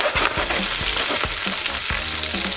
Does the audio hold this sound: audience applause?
no